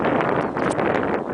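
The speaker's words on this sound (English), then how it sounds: "it's a bit windy up here" Strong wind gusting across the microphone, a loud continuous roaring buffet with uneven surges throughout.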